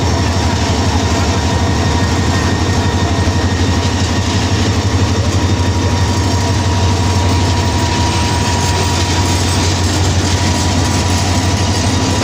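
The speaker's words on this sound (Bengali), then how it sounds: "ধীরে ধীরে এগিয়ে ছুটে যাচ্ছে দেশে নতুন ট্রেন প্রবেশ করেছে লাল সবুজের দেশে লাল সবুজের ট্রেন" A new red and green passenger train rolls past slowly and close by, a loud continuous rumble of wheels and carriages with steady rhythmic clatter throughout.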